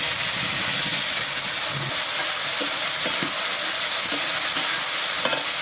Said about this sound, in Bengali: মশলাটা দিয়ে সামান্য জল দিয়ে বেশ ভালোভাবে কষিয়ে নেবো।